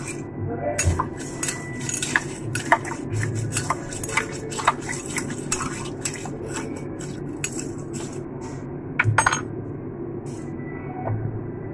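A mocktail is stirred, with rapid, irregular clinks and scrapes of a utensil against a glass over a steady background hum, close and fairly loud.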